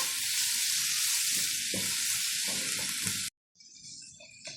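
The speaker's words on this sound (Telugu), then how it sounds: "కొంచెం ఉల్లిపాయ ముక్కల్ని బాగా వేయించుకున్నాము" Chopped onions fry hard in a pan for a curry, a loud steady sizzle that cuts out abruptly, then returns more quietly after a brief silence.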